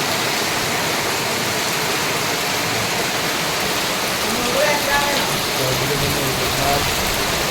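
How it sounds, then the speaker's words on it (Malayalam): Steady rain falls in a constant, full hiss close by, with faint voices murmuring now and then beneath the downpour. "നല്ല മഴ പെയ്തു നല്ല മഴ"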